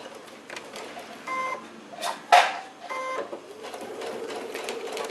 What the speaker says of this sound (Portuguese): Então eu vou passar uma costura bem no meio, só pra segurar